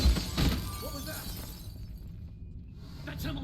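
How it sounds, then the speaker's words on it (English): Glass shattering in Dishonored 2: a brief, sharp crash near the start, followed by a quieter ambient tail. "I hit the glass."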